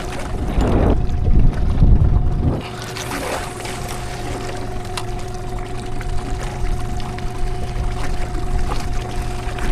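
A fishing boat's outboard motor running in reverse gives a steady low drone on open water, with splashing and water sloshing loud at the start, then settling into a continuous hum under wind.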